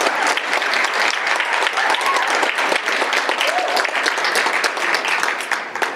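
Sustained loud applause from an audience at an Academic Palms investiture ceremony, dense steady clapping from many hands filling the room without a break.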